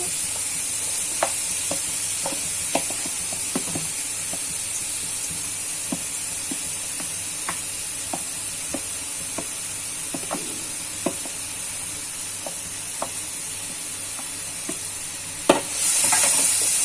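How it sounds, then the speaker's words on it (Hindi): Apple pieces frying in a pan for apple halwa give a steady sizzle with repeated spoon scrapes and taps, close and fairly loud, no talking. "अब हम इसमें एप्पल डालेंगे।"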